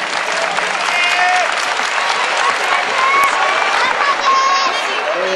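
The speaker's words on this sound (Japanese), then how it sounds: "皆様、今一度拍手をお願いいたします" Audience applause fills a domed ballpark at a Lions uniform unveiling event, steady and dense for the whole stretch, loud and even with no pauses.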